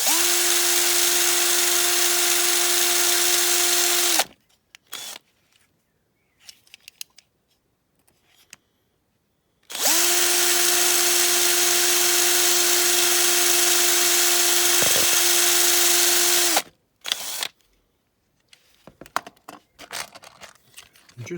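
Small electric drill boring down into the plastic mounting pillars of a Corgi Classics diecast model car base, Morris Minor or Austin Mini; two steady high-pitched whirring runs of about four and seven seconds, close, with quiet handling clicks between.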